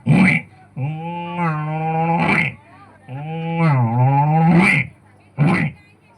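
A voice imitates a hungry buffalo lowing: two long, deep, wavering calls, with short breathy huffs before, between and after them.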